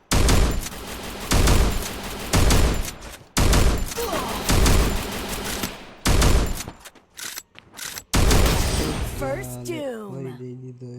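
Rapid bursts of gunfire in the Free Fire Max video game crackle in several loud clusters during a 1v1 match, separated by short gaps, followed by a rising and falling electronic game sound near the end.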